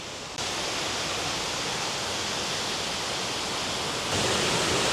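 Mokfa waterfall in Thailand's Mae Hong Son region pours with a loud, continuous roar of falling water, steady and close throughout without a break.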